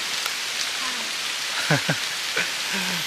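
Steady rain hisses and patters all around on a hiking trail under a bamboo clump at Khao Luang, Sukhothai, with a few brief murmuring voices breaking through near the middle and end.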